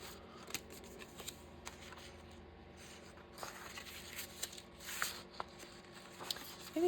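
Scissors fussy cutting a small paper flower for a junk journal, quiet close snips and paper rustles in a soft, irregular rhythm.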